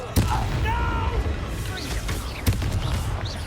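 Confringo explosion spell in Hogwarts Legacy, two sharp booming blasts with a low rumble in a battle, while voices talk throughout.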